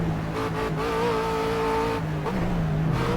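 A race car in Project Cars runs wide at the Nürburgring and loses grip, its engine note droning and shifting pitch, tires briefly squealing as it slides.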